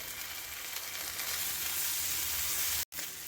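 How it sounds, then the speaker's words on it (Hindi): Schezwan sauce and black pepper are stirred into sweet corn in a hot pan, giving a steady, close sizzle and frying hiss that runs throughout, cut by a brief dropout near the end. "शेज़वान सॉस और इसे अच्छे से मिक्स कर लेते हैं"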